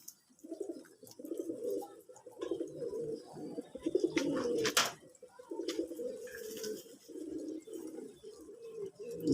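Domestic pigeons of a native breed coo steadily and close by, with low throaty calls rolling one into the next almost without pause, joined by a few faint chirps and brief clatters.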